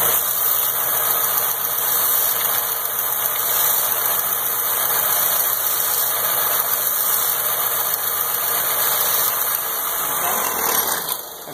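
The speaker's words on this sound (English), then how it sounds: "I'll take this thing over here to this disc sander again and I'll deburr it" A disc sander deburrs a copper cup for a moonshine still part, a loud steady motor whir with high whining tones and gritty grinding that runs continuously before winding down at the end.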